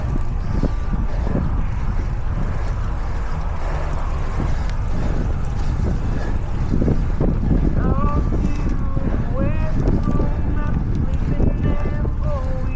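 A headwind roars across the microphone during a fixed-gear bike ride in Ottawa, a steady, loud buffeting rush throughout.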